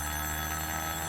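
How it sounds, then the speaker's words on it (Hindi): Telephone ringing steadily and faintly for a moment, a continuous electronic ring with no voices over it. "ओफो, मेरे पति का फोन है।"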